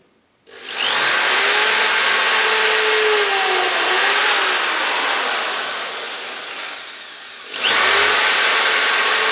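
Close, loud whine of a power drill boring holes in wood for a bonsai staging build, running steadily for several seconds, then briefly stopping before starting up again.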